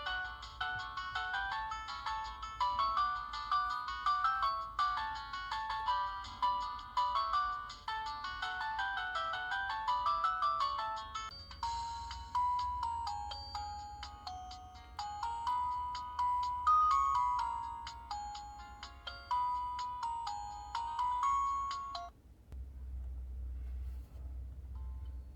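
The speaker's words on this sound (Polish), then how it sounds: "Teraz przejdziemy do dźwięków, do dzwonków i zobaczymy," Built-in system ringtones of a myPhone Halo 3 LTE phone play one after another, bright electronic melodies changing tune every few seconds, loud and close with no talk over them.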